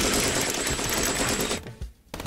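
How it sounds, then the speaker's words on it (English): A queen piece's machine gun fires in the video game Chess with Guns: a loud, rapid, continuous burst for about a second and a half, a sudden cutoff, then a brief return of fire at the end. "This is the queen with the machine gun"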